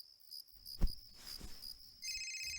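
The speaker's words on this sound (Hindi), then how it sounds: "इतनी रात को किसका फोन है?" A faint electronic phone ringtone starts up near the end, beeping over a thin steady high whine and a few soft rustles.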